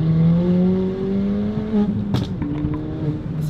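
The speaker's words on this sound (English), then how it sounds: "Second gear, low speed, foot down, and it's not spinning." Stage 3 Ford Fiesta ST with about 290 bhp pulling hard in second gear at low speed, a steady loud engine drone rising in pitch, with brief clatter near the end.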